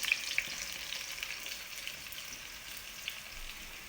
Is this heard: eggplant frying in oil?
yes